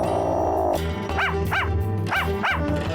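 Shadow the dog barks in Ace Attorney: Spirit of Justice, two pairs of sharp, clear barks over a steady game music backdrop, loud and close.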